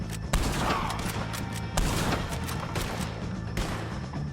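Rapid gunfire crackles in bursts during a shootout against O'Driscolls in the Red Dead Redemption 2 video game, with sharp repeated shots layered over a dense, busy game soundtrack.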